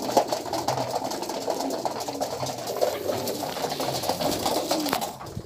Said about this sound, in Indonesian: memberi makan burung pos dan barber